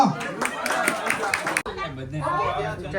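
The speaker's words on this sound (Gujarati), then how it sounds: "તાળીઓ તો પાડો." Applause and cheering chatter from family guests at an Indian baby shower celebrating a game winner, a busy crowd clapping close by with voices mixed in, fading into quieter talk after a brief drop.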